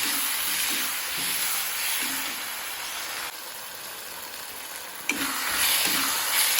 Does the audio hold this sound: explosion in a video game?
no